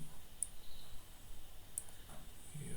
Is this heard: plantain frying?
no